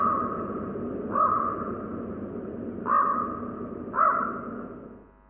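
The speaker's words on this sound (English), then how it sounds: "we walk through the trees, and a crow calls out" A crow cawing three times in a winter forest scene within an Alexa voice adventure game, clear mid-pitched calls spaced over a low steady background hum, with no talking.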